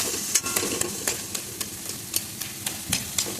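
Taro flowers and prawns are sautéed in a pan with a spatula, giving a regular series of sharp scraping strokes, roughly three per second, over a low, steady sizzle.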